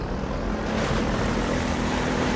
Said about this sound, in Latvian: Tā atkal helikopters